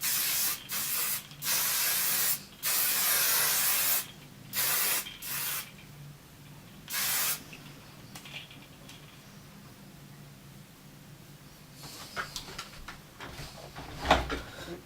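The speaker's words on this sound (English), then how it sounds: "It's just a volume spray. So I just go upside down like that and then spray." Several short bursts of aerosol volume hairspray hiss close by, sprayed with the head upside down, separated by brief pauses, followed by quieter rustling and handling sounds.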